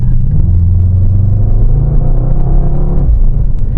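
A Mercedes AMG GT63 climbs a hill under automatic shifting, its engine a loud, close, continuous low rumble with a slight drop and rise in pitch near the end, no voices.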